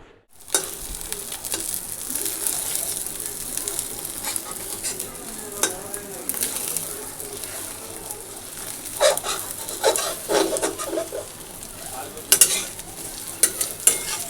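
An omelette frying and being stirred in a pan, a steady close sizzle broken by scraping and clinking strokes of the utensil, with a few sharper knocks near the end and no talking.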